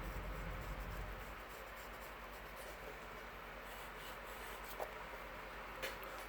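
Soft, steady rubbing of art medium, gelato crayon and Stabilo pencil, across a surface in a quiet room, a faint continuous scratchy friction with a couple of small taps.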